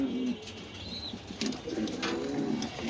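Black Racer pigeons of a Belgian bloodline give low, soft coos in short bursts, with a few rustles and a faint flutter, heard close but at modest volume.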